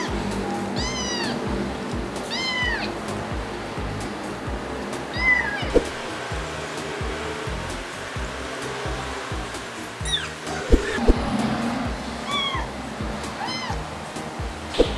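A kitten being fed milk meows repeatedly in short, clear cries spread through the scene, with soft handling noises and low background hum.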